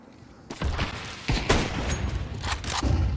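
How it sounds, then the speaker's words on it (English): Rapid bursts of gunfire ring out in a professional Counter-Strike 2 esports match, loud and overlapping in quick volleys with booming impacts, and there is no commentary over them. "Nice shot for Diladez."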